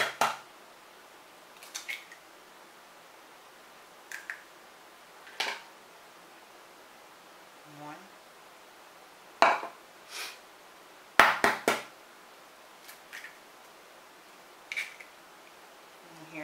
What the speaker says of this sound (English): my 2 eggs that I'm going to crack separately